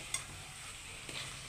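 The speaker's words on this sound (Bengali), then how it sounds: "সুন্দর করে কষিয়ে নেবেন, ভালো করে কষিয়ে" Jackfruit curry sautés in a pan, giving a quiet, steady frying hiss. Two short scraping stir sounds break through, one near the start and one later.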